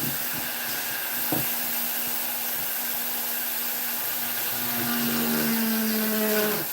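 A dull paper burr in a rotary tool grinds into very dry wood while brickwork is carved on a gnome house, giving a steady high whine with a faint hum underneath that holds evenly and grows slightly louder near the end.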